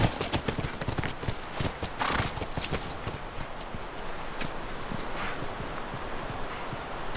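Rapid, rhythmic hoofbeats of a galloping horse in the video game The Last of Us Remastered, loudest at first, then continuing more evenly under a steady background.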